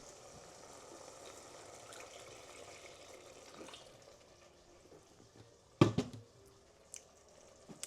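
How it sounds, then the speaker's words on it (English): Water runs softly from a kitchen tap while short ribs and gravy are being cooked, a low steady trickle that ends with a sharper splash and a few clinks of a pan near the end. "Just gonna add a little water."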